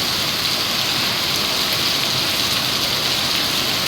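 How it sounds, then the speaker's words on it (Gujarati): Heavy rain pours steadily in a continuous dense hiss with no pauses, a loud downpour after days of nonstop rain and wind. "6:30 વાગ્યાથી ફૂલ જોશમાં વરસાદ ચાલુ છે"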